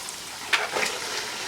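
Meat dropped into golden onions frying in a pot for pudina gosht gives a steady hiss of sizzling oil, with a brief louder burst as it goes in, close and continuous with no voice.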